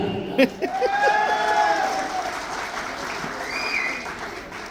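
An audience claps in a short burst of applause that fades quickly into a room murmur, with a few brief tonal sounds over it and no clear speech.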